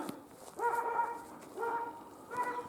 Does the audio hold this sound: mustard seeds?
no